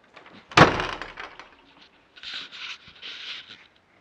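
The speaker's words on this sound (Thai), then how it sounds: "เดี๋ยวปิดประตูห้องครัวก่อน" A kitchen door closes with one sharp, loud thud near the start, followed by a few softer rustles and shuffling sounds nearby.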